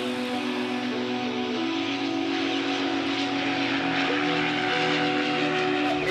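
Firefighting aircraft engine throttling up on approach over the water near Ajaccio's harbour, a loud, steady droning hum whose pitch steps up as power is added.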